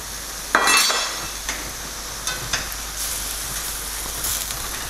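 Garlic, onion and pepper stirred in a frying pan for sautéed zucchini with vegetables, a soft sizzle running throughout with a few sharp scraping clinks of a utensil against the pan.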